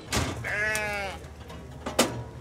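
Lambs at a sheep farming trade fair give a clear wavering bleat, with brief knocks and clatter of pens and equipment around it.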